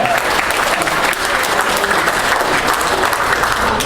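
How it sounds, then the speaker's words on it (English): Loud, steady clapping from a convention audience at an anime event, dense and sustained for several seconds with no talk over it. "go ahead, clap"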